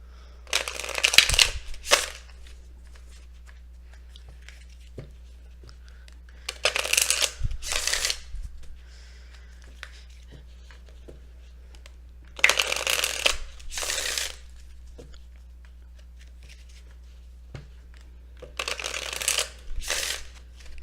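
A deck of tarot cards is shuffled in four separate bursts, each a quick riffling flutter, close up with quiet pauses between.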